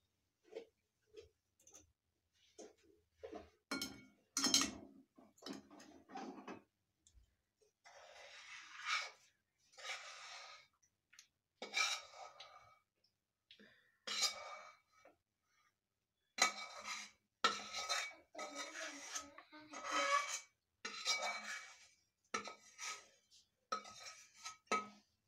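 A spoon scrapes and clinks against a pan as roasted peanuts are stirred into melted jaggery for peanut chikki, in irregular bursts of strokes with short pauses between them and no talking.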